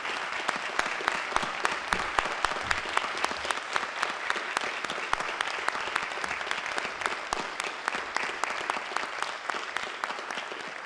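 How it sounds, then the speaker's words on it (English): Sustained audience applause for scholarship award candidates at a high school ceremony: a dense, steady roar of many hands clapping, even in level throughout with no speech over it. "deserve one more round of applause"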